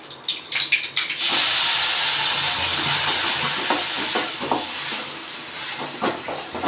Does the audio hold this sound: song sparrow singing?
no